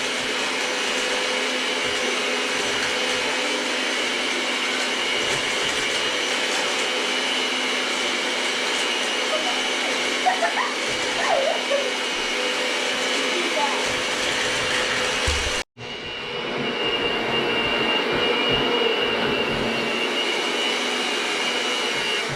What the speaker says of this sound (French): Je vais prendre le batteur électrique. Et maintenant, je vais malaxer.